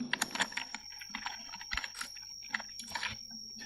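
Keystrokes on a computer keyboard while entering text in Microsoft Word: irregular light clicks and taps, faint and close, with a thin steady tone in the background and no speech.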